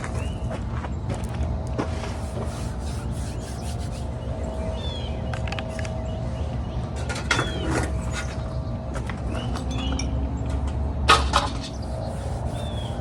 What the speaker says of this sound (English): Let's go ahead and roll it into a tube, flatten it out on the table